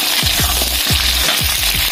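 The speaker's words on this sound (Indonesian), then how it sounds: "Ini kita goreng ya bawang merahnya, cabenya, kemiri, dan bawang putih" Shallots, chilies, candlenuts and garlic fry in a pan with a loud, steady sizzle, broken by a regular rhythm of low thumps or stirring knocks under a constant hiss.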